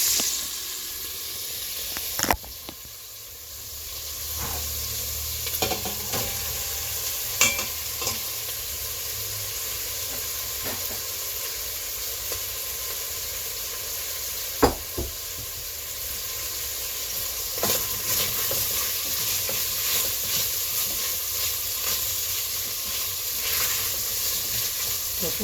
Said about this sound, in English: It's steaming more than browning because I did put too many in the second batch